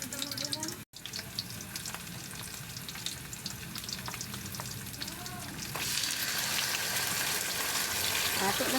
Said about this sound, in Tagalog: Nagpisik-pisik ang tubig.